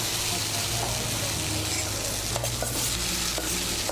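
Fried potato and yard-long beans are stirred into spiced masoor lentils in a hot pan, giving a steady close-up sizzle with soft scraping and stirring strokes throughout.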